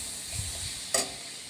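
Tomato, green chili and curry leaves sauté in a pan with a soft, continuous sizzle and one sharp clink of a utensil against the pan, and no voices are heard.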